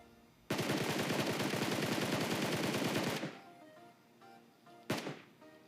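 Rapid automatic gunfire in the shooter game PUBG Mobile, a long loud burst of evenly spaced shots lasting almost three seconds, followed by a quieter tail and one more sharp shot.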